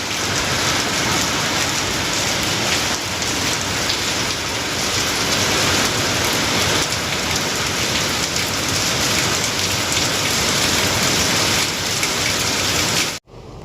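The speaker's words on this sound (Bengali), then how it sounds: "জোর বৃষ্টি হচ্ছে দেখ।" Heavy rain pours down in a steady, loud, dense hiss of drops hitting surfaces for over thirteen seconds before cutting off abruptly, with no voices.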